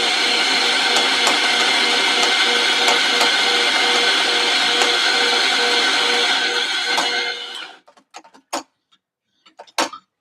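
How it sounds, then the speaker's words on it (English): A coffee grinder grinds coffee beans in a home kitchen, giving a loud steady whirring buzz for about seven seconds that cuts off sharply, followed by a few scattered clicks and knocks. "we're going to grind our coffee"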